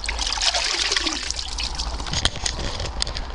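Water trickles and dribbles steadily from a hat dipped in water on a sunny allotment, a close continuous splashing run with no talking.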